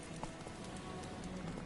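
Hooves of Roach, Geralt's horse in the video game The Witcher 3, clip-clopping at a steady quick gait under a constant background wash.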